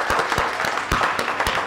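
A small audience at a Stanford VAIL event claps for a team, with individual hand claps standing out in an uneven, loose rhythm over a steady wash of applause.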